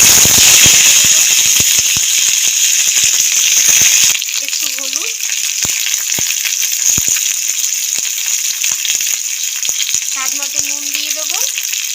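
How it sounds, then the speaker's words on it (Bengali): Nigella seeds crackle in hot oil with a loud, bright sizzle, then sliced flat beans go into the pan and the frying settles into a quieter hiss, with occasional squeaks and clinks of utensils nearby. "গরম তেলের মধ্যে কালো জিরে দিয়ে দেবো কালো জিরেটা ভাজা হয়ে গেছে এবার আগে থেকে যে সিম কেটে"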